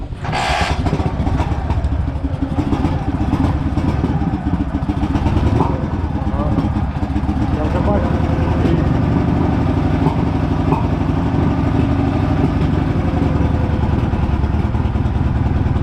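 A motorcycle engine idles steadily nearby, a continuous low rumbling chug with a rattling clatter, loud and unchanging throughout.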